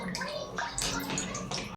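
Coconut water gurgles and splashes as it drains steadily from a hole poked in a fresh coconut, a close, continuous liquid pour that stops abruptly at the end.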